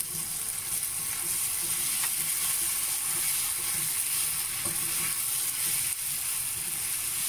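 Ginger garlic paste frying in ghee for ghee rice, a continuous close sizzle with faint stirring scrapes and no voices.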